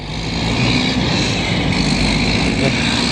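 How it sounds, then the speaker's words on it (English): A diesel city bus rumbles past close by on Peel Street in downtown Montreal. Its heavy engine drone is loud and continuous over the street noise. "That's how a diesel is supposed to sound."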